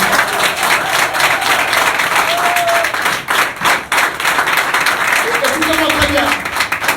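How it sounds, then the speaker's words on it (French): A church congregation applauds loudly and continuously, with dense clapping and crowd noise along with voices calling out throughout. "Acclamez pour le Seigneur."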